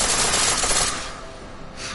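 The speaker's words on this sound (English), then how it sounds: "Pistol and full auto, but it'll burn through your ammo." Full-auto weapon fire in Deus Ex: Mankind Divided crackles in a rapid, loud burst for about a second, then tails off into quieter ringing and handling noise.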